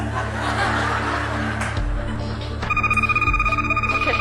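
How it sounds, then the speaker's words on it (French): A television game-show set where a telephone rings, with steady bright repeating rings during the second half over crowd noise and laughter. "c'est la première fois de ma vie que j'ai hâte que le téléphone sonne"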